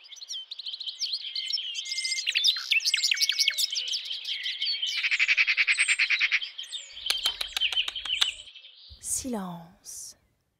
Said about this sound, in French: Comment faire taire les oiseaux?